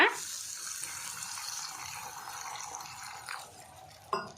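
Water pours into a pan of basale spinach stems, a steady close splashing trickle that fades toward the end before a brief knock.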